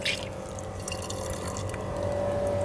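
Water from a tap runs steadily into a container, a constant close splashing and trickling stream that continues throughout with no talking.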